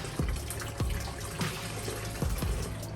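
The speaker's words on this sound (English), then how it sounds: "I'm gonna wring this out really good." A car-detailing towel soaked in rinseless wash mix is wrung out, water trickling and splashing into a bucket in repeated gushes, fairly quiet and close.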